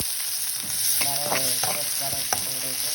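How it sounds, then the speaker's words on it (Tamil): Onion, garlic, cumin, green chillies and chana dal sauté in a pan for a carrot stir-fry, with loud close sizzling and several scraping stirs of a spoon, and no talking. "வெங்காயம் உள்ளி சீரகம் சின்ன சீரகம் எல்லாம் போட்டு வதக்குறேன்"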